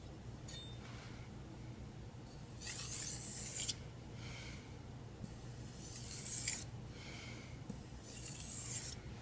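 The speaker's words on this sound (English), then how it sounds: "use a stropping motion on the stone to just create the fine edge again" Kitchen knife stroked in stropping passes across a wet Japanese waterstone, several soft rasping strokes of about a second each, fairly quiet and close, with no talk.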